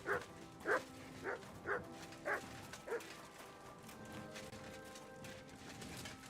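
A dog in the video game Kingdom Come: Deliverance 2 barks six times in an even rhythm, moderately close, then falls quiet over a low background hum.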